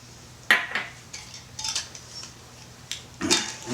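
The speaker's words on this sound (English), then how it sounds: "I like to give it a little shake just because I don't feel like mixing inside of a jar" Strawberries with sugar and balsamic vinegar are shaken in a closed jar, giving three short bursts of rattling and knocking against glass with quiet pauses between them.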